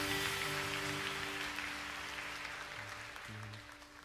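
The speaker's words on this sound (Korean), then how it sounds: "다시 한번 영광의 박수 올려드리길 원합니다" A worship congregation applauds in a soft, steady hiss of many hands, fairly distant and continuous, beneath sustained organ-like keyboard chords.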